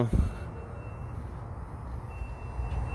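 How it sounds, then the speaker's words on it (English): Reversing beeps from a truck behind stores in Laredo, Texas, a faint steady electronic tone under outdoor traffic rumble, heard from some distance. "Hear this beeping."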